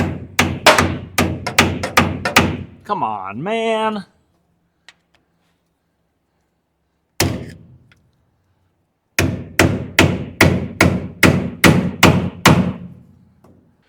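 Hammer blows on a stuck part of a pickup truck, coming in rapid bursts of loud metallic strikes, with a pause and a single hit in between. A man mutters briefly between the bursts.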